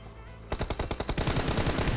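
Rapid automatic gunfire in the mobile game PUBG Mobile, a quiet stretch and then a steady burst of fast repeated shots lasting over a second.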